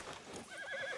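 Horse in the Red Dead Redemption 2 video game giving a short, wavering whinny that rises into a quivering neigh, with a hint of hoof clatter, brief and moderately quiet.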